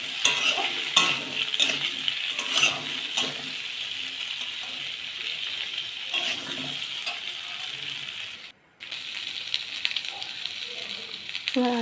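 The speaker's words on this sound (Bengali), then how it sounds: "নাড়িয়ে চাড়িয়ে ভালো করে ভেজে নিচ্ছি" Potatoes and red potatoes frying in oil in a kadai, with a steady sizzle broken by repeated scraping stirs of a spatula against the pan, close and continuous, briefly dropping out near the end.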